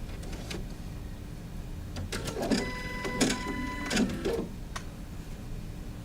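An embroidery machine runs a placement stitch line on fabric, a fairly loud mechanical whir with bursts of rapid needle stitching against a constant motor hum and no talking.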